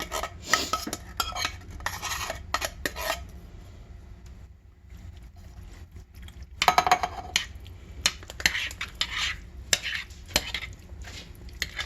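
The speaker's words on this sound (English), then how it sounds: "I'm going to stir that up a little bit." A spoon stirs broccoli casserole inside a casserole dish, giving scraping, clinking bursts separated by a quiet pause, close and moderately loud with no talking.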